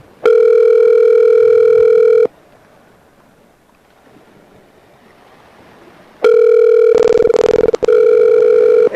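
A telephone line sounds two long, steady electronic ring tones separated by a quiet gap before a voicemail greeting, with a few brief clicks and pulses over the second tone.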